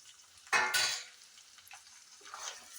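Green bean thoran being stirred in a pan: one loud scrape and rattle of the spoon against the pan, followed by fainter light clinks and a soft sizzle.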